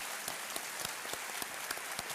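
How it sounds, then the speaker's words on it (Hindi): Studio audience applause on the TV quiz show Kaun Banega Crorepati greeting arriving guests, a steady dense wash of clapping with a few sharper claps standing out, moderately loud and continuous throughout. "एक बार फिर आपका बहुत बहुत स्वागत और तालियों के साथ इनका स्वागत करते हैं"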